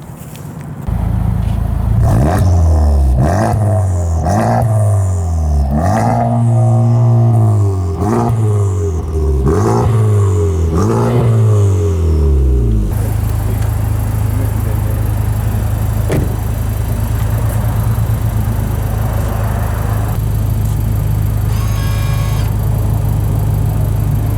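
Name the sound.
Honda Type R car being driven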